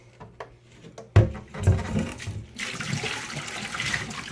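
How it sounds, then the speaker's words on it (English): Dirty water from a brass cleaning tumbler is dumped out into a drain, a few knocks and a thump of the container, then a sustained splashing, gurgling pour. "So I'm going to dump this out so you can see how nasty the water was."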